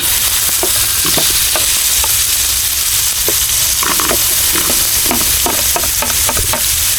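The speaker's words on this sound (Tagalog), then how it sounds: "Sabayan natin guys ng gisa ng sibuyas." Chopped onions sauté in butter in a large wok, a loud, constant close crackle broken by repeated scraping stir strokes.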